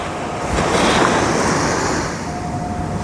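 Surf washes steadily onto the beach at Stogi in Gdańsk just after sunset, a continuous rushing swell of waves with some wind across the microphone and no voices.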